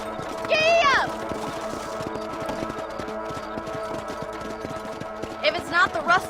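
Horse hooves clip-clop in the video game Red Dead Redemption, a steady trotting rhythm running throughout under whistling, melodic sounds near the start and end and background game audio.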